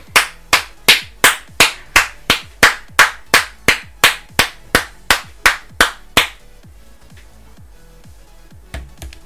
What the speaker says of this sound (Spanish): un aplauso a todo el mundo